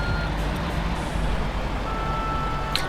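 A truck in Construction Simulator 3 sounds its reversing alarm, steady repeating beeps over a loud, constant engine rumble, with no talking.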